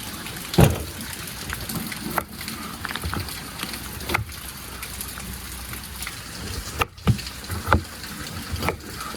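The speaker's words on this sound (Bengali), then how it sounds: "দেখেছেন কি পরিমাণে বৃষ্টি হচ্ছে?" Heavy rain pours in a dense, continuous wash, broken by several sharp knocks and splashes at irregular moments, fairly close with no talking.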